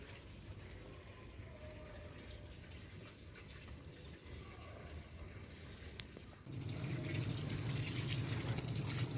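Water pours steadily into seeded pots in a rooftop garden, a continuous soft splashing flow that turns louder and fuller partway through.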